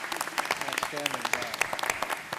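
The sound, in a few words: round of applause for Tammy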